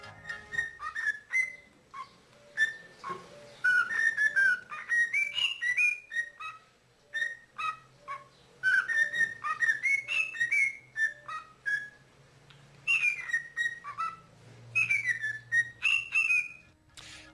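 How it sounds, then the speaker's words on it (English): A bird whistles the Super Mario Brothers theme, clear pitched melodic phrases in rhythmic runs with short pauses, close and prominent over faint background noise, with no talking. "a bird that can whistle the Super Mario Brothers theme song"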